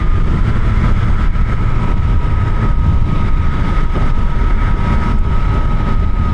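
A Suzuki GSX-8R motorcycle runs under throttle with a loud, steady engine drone and a constant whine on top, heavy wind-like rush throughout and no clear rise or fall in revs.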